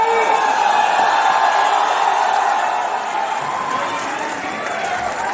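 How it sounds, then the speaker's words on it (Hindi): A crowd at a Dainik Jagran event at GL Bajaj College cheers and claps loudly to welcome Manoj Muntashir Shukla, a dense roar with whoops and a sustained tone running through it, easing slightly in the second half. "जोरदार तालियों के बीच मनोज मुंतशिर शुक्ला जी का स्वागत करेंगे यहाँ पर।"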